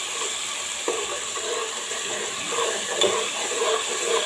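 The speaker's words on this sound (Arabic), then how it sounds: "نديها بقى تقليبه كده لحد ما ريحتها تطلع" Tomato juice and oil sizzle and fry in a pot for a rice-and-fava-bean dish while a spoon stirs through it, giving a steady close crackle with scraping swirls and a few soft clinks.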